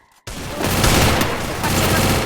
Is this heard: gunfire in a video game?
yes